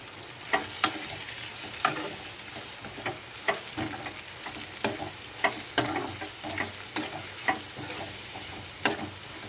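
Chili powder and salt being stirred into chopped cucumber for a silver shrimp curry, with repeated scraping strokes at an irregular rhythm over a low frying sizzle, close and fairly loud, with no voices.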